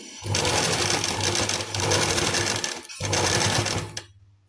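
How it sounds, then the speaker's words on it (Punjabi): A sewing machine stitches a finishing strip onto fabric. Two long bursts of steady, loud, close whirring are split by a short pause, and the motor winds down at the end. "ਦੇਖੋ ਜੀ ਸਲਾਈ ਲੱਗ ਰਹੀ ਹੈ"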